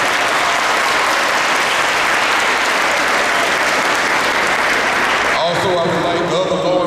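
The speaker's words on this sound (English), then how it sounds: "Y'all give them a round of applause." Dense, loud crowd applause for sheriffs at a memorial highway dedication, steady throughout, with voices rising over it near the end.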